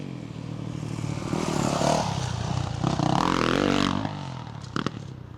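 A dirt bike on a supercross practice track, its engine buzzing and rising in pitch as the throttle opens, fairly close, with a brief clatter near the end.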